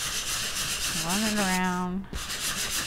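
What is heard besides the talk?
sanding block rubbed over embossed colored cardstock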